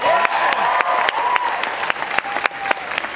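A theater audience at a Star Wars Weekend conversation event claps steadily, a dense patter of hands with scattered sharper claps and a faint cheer, continuous for a few seconds.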